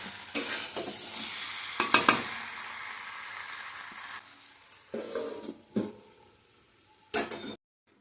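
Potatoes and chicken fry over high flame in a pan while a spatula stirs them in several separate bursts of scraping and clattering over the sizzle, with quieter pauses between bursts.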